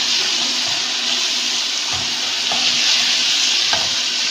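Onion, tomato, and spices with salt, coriander and cumin fry in a pan with a loud, steady, dense sizzle that fills the whole stretch, close up, with faint stirring knocks underneath.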